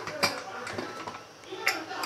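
Lifting the lid off a pot of Kerala-style kadalai curry gives two light, close metallic clinks over a soft background hum.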